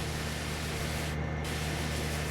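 Pressure washer spray in Farming Simulator 25 hisses as a steady, even wash of noise cleaning a dirty mower, with a brief dip partway through.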